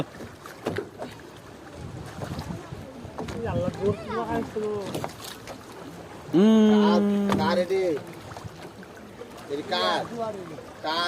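A wooden boat moves on water while several people talk nearby, with a loud drawn-out tonal call partway through.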